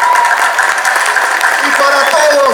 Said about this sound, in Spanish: Que se sienta ese aplauso para el Papa Francisco.